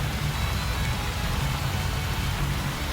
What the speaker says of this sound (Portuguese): E incrivelmente começou a chover.